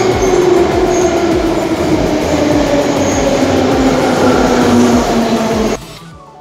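A Minsk subway train runs loud and steady throughout, with a continuous rumble and rhythmic wheel clatter, then drops off sharply near the end.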